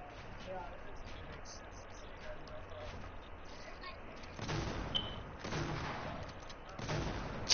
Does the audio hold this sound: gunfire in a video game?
yes